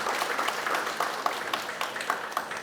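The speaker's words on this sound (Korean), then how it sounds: "박수 한번 쳐주십니다" An audience at the launch ceremony of a Gyeongbuk regional research institute claps in steady, moderately loud applause. Many hands blend together with a few sharper claps standing out, and no voices are heard.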